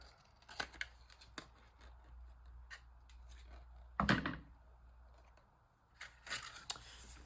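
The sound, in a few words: trimming a bookmark, likely with scissors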